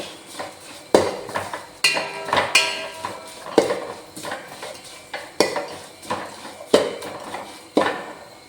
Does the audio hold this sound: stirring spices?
yes